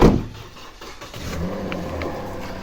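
Toyota Yaris engine idling with the bonnet open, a steady low mechanical hum after a brief louder burst at the start, no talking.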